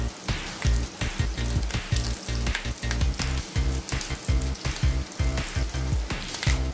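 Fish roe frying in a pan as it is flipped with a spatula, with steady loud sizzling and repeated scraping knocks of the spatula against the pan.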